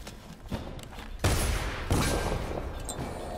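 Guards firing guns in the video game Dishonored, a couple of sharp loud shots followed by rumbling reverberant noise and scattered impacts.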